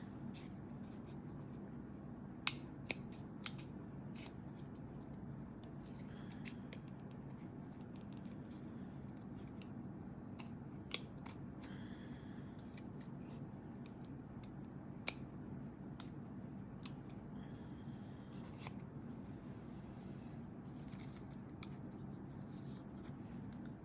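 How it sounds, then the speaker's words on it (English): Scissors snip around paper leaves and a flower while a Halloween card is being made from a craft kit, producing faint, close cutting strokes and occasional sharp clicks over a low steady background, with no talk. "going to trim the bottom leaf out. So I'm going to cut underneath the flower and underneath the leaf"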